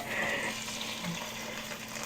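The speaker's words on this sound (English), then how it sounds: "Listen to that That's that sizzle." Steady, crackling sizzle of blackened Cajun salmon frying in a hot pan, close and continuous with no talking.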